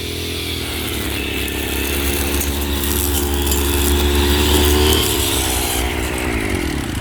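A gasoline brush cutter screams at full RPM while its trimmer line scours hardened dirt off a concrete floor, a loud, close, high-revving engine whine with shifting pitch that runs without a break.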